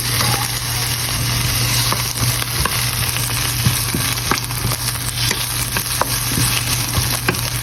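Onion frying in hot oil for mixed vegetables, a steady, loud, close sizzle with occasional small pops and light stirring taps, no voices.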